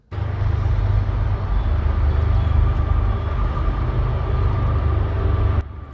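A train passes on nearby tracks as a loud, steady low rumble and roar that starts abruptly and holds at an even level for several seconds before cutting off.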